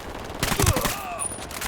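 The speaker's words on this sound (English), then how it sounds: "Opening fire." A rapid fusillade of rifle fire in the tactical shooter Ghost Recon Wildlands, several sharp shots in quick succession, loud and close.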